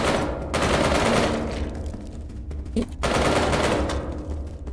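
Automatic weapon fire in the sewer shooter game Rodent Retribution, a loud continuous rattle of rapid shots in two sustained bursts separated by a brief lull.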